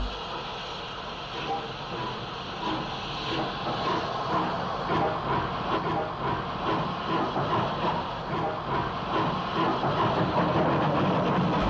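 Preserved steam locomotive 35025 Brocklebank Line being serviced at the west end of Waterloo station, with steady hiss and rail noise, dense clattering texture and a continuous, moderately loud railway bustle throughout.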